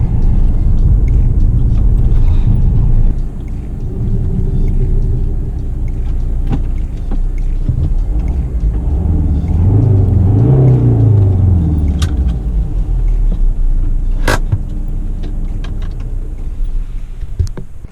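A five-cylinder turbo diesel Volvo V40 engine idles and runs with a steady low rumble throughout, swelling slightly as it revs midway, close and continuous with no talking.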